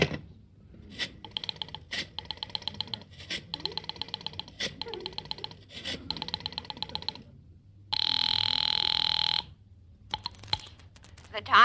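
Rotary telephone dialing clicks followed by a repeated electric telephone bell ringing in bursts, then a sustained tone, in a 1950s radio comedy scene, close and clear with no speech.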